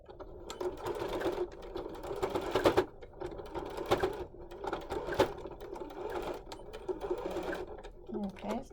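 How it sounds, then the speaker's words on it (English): Sewing machine stitching across the edge of a pleated fabric face mask, running in short bursts with brief pauses while someone talks over it. "this is the very last step is just simply to stitch across, presser foot away, down that edge."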